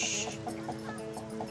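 Chickens clucking in a short, steady series of soft calls at moderate distance, with a constant background hum underneath and no talk.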